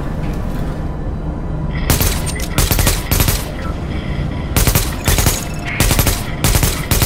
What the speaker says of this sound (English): Blank shots for everyone.